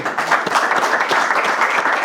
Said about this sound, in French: Est-ce qu'on va applaudir très fort pour Dolé?